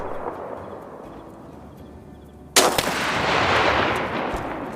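Gunfire in the wartime survival video game This War of Mine erupts as a sudden loud burst halfway through, followed by a sustained roar of shots, after a quieter stretch of low rumble.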